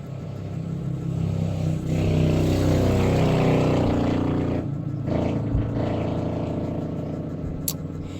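Loud motor engine rumble from motorcycles passing outside, a rising and falling drone that peaks midway, then fades before another engine passes, with no talk over it.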